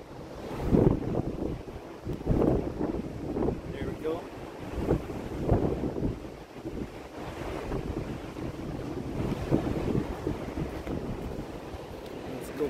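Pacific Ocean waves roll and break on the Oregon coast near Lincoln City, a rumbling surf with strong gusts buffeting the microphone, the waves swelling and receding continuously while nobody talks.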